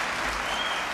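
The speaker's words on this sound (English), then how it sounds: "Again, I will ask the audience, please do not applaud." Audience applause at a 1992 vice presidential debate, a brief, dense burst of many hands clapping that fills the whole moment steadily, with no talking.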